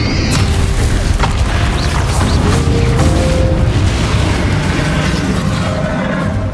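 Spell blasts crash out in a Hogwarts Legacy fire-curse battle, a loud, dense wall of booming impacts and rumbling debris that roars continuously with no pause.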